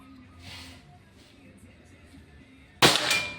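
A single sharp shot from a Pajero Gun Gen 6 air rifle at an accuracy test, loud and close, bursting out near the end after a stretch of quiet background.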